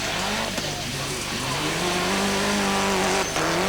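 A Mitsubishi Lancer Evolution 5 rally car races through the 1998 1000 Lakes Rally, its engine loud and close, rising and falling in pitch as it accelerates and shifts.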